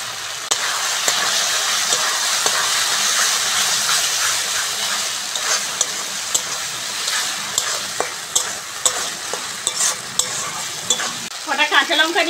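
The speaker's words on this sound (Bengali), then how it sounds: "কুচনো টমেটো দিয়ে দেবো" Chopped tomatoes frying and stirred for a rohu fish curry, a continuous bright sizzle with repeated spatula scrapes and taps, growing busier and louder toward the end.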